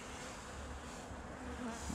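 Honey bees from a brood-free colony buzz at an open hive in an apiary garden, a dense, steady, close drone with no voices.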